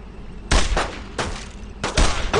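Gunfire from the World War II shooter Brothers in Arms: Road to Hill 30 in the Vierville fighting, with three loud bursts of rifle and machine-gun fire separated by short pauses.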